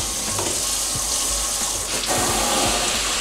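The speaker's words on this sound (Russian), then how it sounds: "Это у нас основной смеситель, да, который вытягивается, который переключается также на несколько режимов." Water runs steadily from a kitchen pull-out mixer faucet, a loud, close, continuous splashing rush into the sink with no talk.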